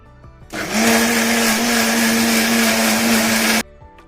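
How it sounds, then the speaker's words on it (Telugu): A mixer grinder blending tamarind chutney starts abruptly and runs at a loud, steady whirring hum for about three seconds, then cuts off. "ఇప్పుడు మళ్ళా మిక్సీ వేసుకుందాం"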